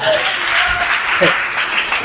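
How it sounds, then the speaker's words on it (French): Applause from a church congregation during a French-language sermon, a steady wash of many hands clapping at moderate loudness, with voices mixed into the noise. "on peut applaudir Saint-Esprit pour ça"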